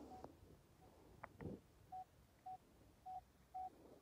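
A Nokta Makro Legend metal detector sounds its target tone outdoors: four short, steady mid-pitched beeps at roughly half-second intervals, faint and clean over low background noise, after a few soft handling knocks.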